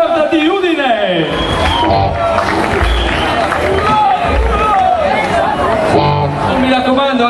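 Rowdy live rock concert crowd at a small club, cheering, whooping and shouting for a guitarist amid loud chatter and stage noise, with voices talking over the din and bursts of low thumps.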